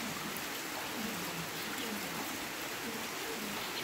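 Steady rain falling on a vegetable garden, an even, hissing wash of drops on surfaces, constant and moderately quiet with no other sounds standing out.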